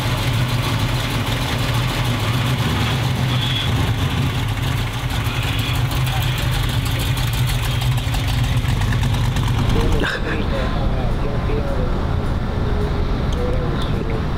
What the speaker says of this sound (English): let's get it to idle right, sitting right here